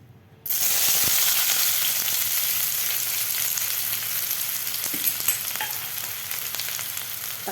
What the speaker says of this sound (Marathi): कांदा आपल्याला दोन मिनिट व्यवस्थित परतून घ्यायचा आहे थोडासा असा गोल्डन कलर होईपर्यंत